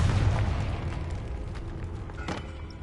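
The Confringo fire spell explodes in Hogwarts Legacy inside a tomb, a single deep, rumbling boom that bursts at the start and then decays into a low lingering roar.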